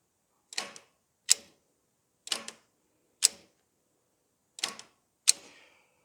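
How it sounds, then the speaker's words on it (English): Starter motor on a 1980s turbo Toyota clicking as it tries to turn a likely seized engine: six sharp, separate clicks in uneven pairs about one second apart, close and fairly quiet, with no cranking between them. "It's clicking like it's trying to, which tells me that that motor is most likely seized up."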